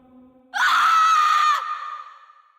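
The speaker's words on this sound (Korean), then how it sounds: "바깥에서 문득 비명소리가 들려왔다." A single sustained scream, loud and close, rising abruptly and holding for about a second before fading out, heard alone as a horror-story sound effect.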